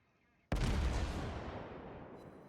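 A loud, close battleship gun salvo fired at point-blank range at another battleship in World of Warships bursts in suddenly and then rumbles off in a long, slowly fading roar.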